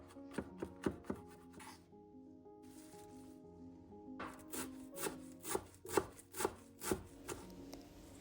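A knife finely chopping garlic cloves and a bunch of parsley on a wooden board. Rapid irregular taps come at first, then a short lull, then a steady run of distinct chops.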